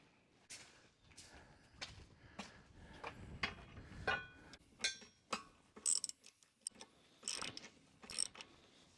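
A socket wrench ratchets in a series of quiet, irregular clicking bursts, with short pauses between strokes, close by and fairly faint.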